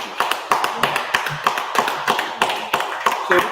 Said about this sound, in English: clap it up for all the sisters